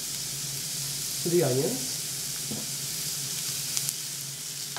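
Onions frying in oil in a skillet with salt, pepper and coriander, giving a steady bright sizzle throughout, broken by a brief scrape of stirring and a short stretch of talking.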